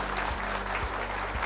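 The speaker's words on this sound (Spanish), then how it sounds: "¡Aplauso para ustedes!" An audience at a management lead auditors' gathering breaks into applause, a short, moderately quiet burst of clapping.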